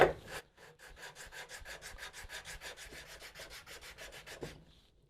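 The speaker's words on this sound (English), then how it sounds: "just take a flat board with some sandpaper on it" A wooden guitar neck scarf joint is rubbed back and forth on a flat sandpaper board, about twenty even, rhythmic rasping strokes close up and alone, then stopping.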